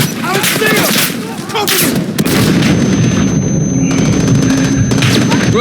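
Rifle gunfire and heavy impacts in a Call of Duty military shooter, loud close bursts of shots and booms, a dense continuous barrage with brief radio-style voices.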